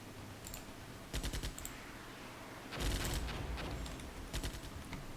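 Artillery fire in the tank wargame Armored Brigade: faint, distant clusters of sharp reports in two separate volleys, with softer scattered pops trailing after, and no talking.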